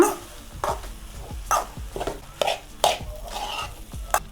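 Cooked rice being stirred into a spiced tempering in a pan for North Karnataka-style chitranna, close and fairly loud: about ten rhythmic scraping strokes of a spatula against the metal, roughly two per second, over a light sizzle.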